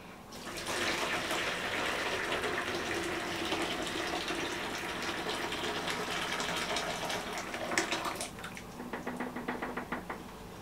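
Hot tap water runs steadily into a sitz bath set in a toilet, a continuous close gush that keeps up for most of the clip, then gives way to scattered knocks and drips near the end.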